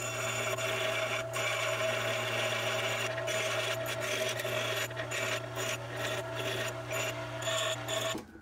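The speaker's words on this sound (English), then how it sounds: "So we'll take that over to the bench grinder and do this one first." A bench grinder works on a twin-stick shifter lever for an NP205 transfer case, giving a steady, loud motor hum and whine with a harsh grinding rasp that runs almost without a break before cutting off at the end.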